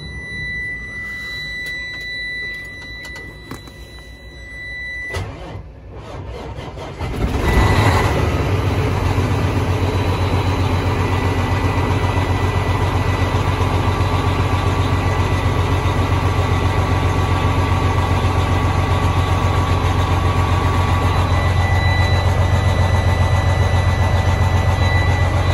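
Detroit Series 60 diesel engine in a used truck at an auction inspection cranks briefly after some clicks and a fading whine, catches, then settles into a loud, steady, low rumbling idle that runs on without talk.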